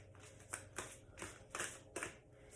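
A tarot card deck is shuffled by hand close by, giving five or six quick riffling bursts at an even rhythm over a quiet background.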